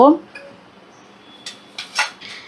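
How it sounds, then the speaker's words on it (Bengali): Fried papad is lifted out of a wok into a bowl, a few light metallic clinks and scrapes of a utensil against the vessel, close and brief. "এবার আমি কড়া থেকে পাঁপড়গুলোকে তুলে একটা পাত্রে নেব"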